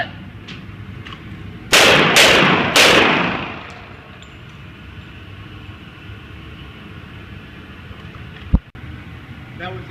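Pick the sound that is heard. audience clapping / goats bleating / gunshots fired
gunshots fired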